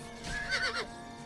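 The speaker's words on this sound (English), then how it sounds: "Oi, don't attack my horse." A horse in the video game Oblivion gives one short, fairly faint whinny that rises and wavers for under a second, with nothing else heard around it.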